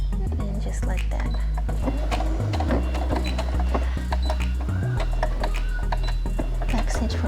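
A domestic sewing machine stitches through layers of fabric for a reusable face mask, a steady motorized whir that runs in several bursts with short pauses and low mechanical thumping.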